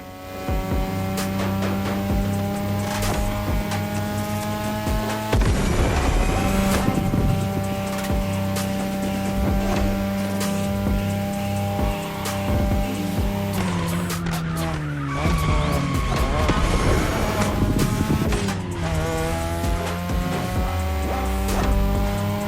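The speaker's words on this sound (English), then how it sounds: "Tonight, your ride is a 3rd Gen 2002 Mazda RX-7." A 3rd Gen 2002 Mazda RX-7 with a rotary engine races in a video game, its high-revving engine whining and shifting pitch while tires squeal and skid repeatedly through corners, loud and close throughout.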